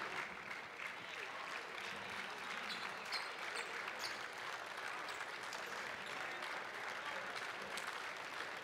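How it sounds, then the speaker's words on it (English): Sustained applause from a basketball tournament crowd as a team leaves the court, dense steady clapping filling the arena throughout, with faint crowd voices beneath. "The folks from Minnesota giving a hand to their guys going out of the ball game."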